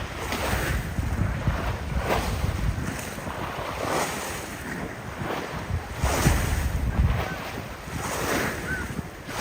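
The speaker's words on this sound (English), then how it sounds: "the river is quite agitated, which is actually not so usual" Agitated, choppy river water at the Lisbon riverside in Parque das Nações, waves lapping and sloshing in uneven surges under steady wind buffeting the microphone, close and fairly loud with no voices.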